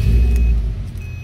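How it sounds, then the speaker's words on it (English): A Subaru car engine with a check engine light and poor fuel economy rumbles loudly up close, a deep steady drone that eases slightly toward the end, with no talking. "I'm gonna start the car, look at my dash, make sure there's no lights"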